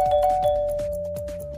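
Doorbell chime ringing in a tone, with a sustained ding-dong note and repeated soft chiming strikes under a steady hum, close and clear.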